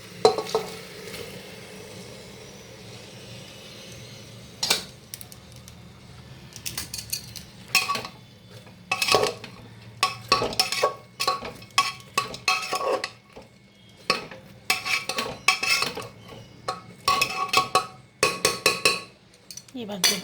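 Vegetables and soybeans are added to a pan of veg pulao and stirred, giving repeated irregular clanks and scrapes of a metal spoon against the pan over a soft underlying sizzle.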